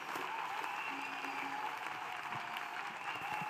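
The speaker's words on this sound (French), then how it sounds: "Acclamez, acclamez. Clap." A church congregation at a conference service applauds steadily, with dense continuous clapping from a large crowd filling the room throughout.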